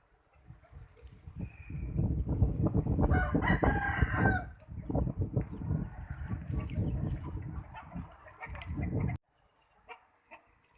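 Rooster crowing repeatedly at a new chicken release area behind a yard with wooden posts, loud and close for most of the stretch before it cuts off into near silence, with no talk over it.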